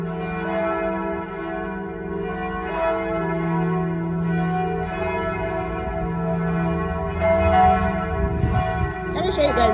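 Church bells toll steadily from a German church tower close by, their bright ringing tones overlapping continuously, with a brief rustle of handling noise at the end.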